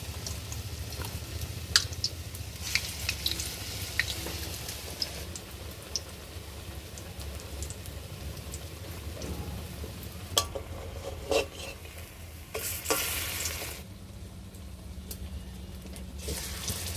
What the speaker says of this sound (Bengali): সবগুলোকে এরকম করে ভেজে নেব।